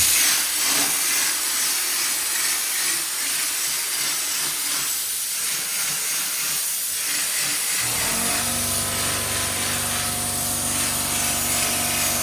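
A texture spray gun hisses steadily as it sprays orange peel texture onto drywall, a broad continuous rush up close, with a compressor-like hum joining in toward the end.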